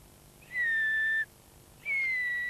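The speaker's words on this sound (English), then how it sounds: "Well, those are flank whistles that Derek's giving." Two sustained high whistles from a shepherd give flank commands to a working sheepdog at a sheepdog trial, each tone about three-quarters of a second long and slightly falling, separated by a short pause over quiet outdoor background.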